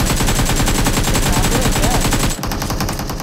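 Rapid automatic gunfire from a battle royale mobile game in a ranked duo match, loud and continuous rattling bursts that stop abruptly near the end, leaving a brief lingering tail.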